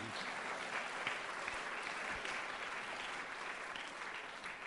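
An audience at a Founders Day event claps steadily in dense, sustained applause, heard from within the room at an even level throughout.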